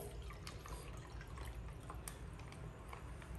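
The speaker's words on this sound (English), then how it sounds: "The water into this bowl." Water trickles and drips steadily into a bowl while fish are moved into a saltwater aquarium setup, a continuous low splashing with scattered droplet ticks, close and fairly quiet.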